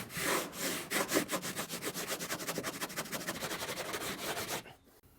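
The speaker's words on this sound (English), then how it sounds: "Now we're going to use a sanding block and get at this stuff we couldn't get with my sander." A sanding block is rubbed by hand along a wooden V-bottom skiff hull being faired for epoxy, giving a steady rhythmic back-and-forth rasp of strokes, close and fairly loud, that stops abruptly near the end.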